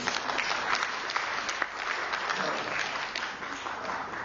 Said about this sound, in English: That's a rather tepid applause.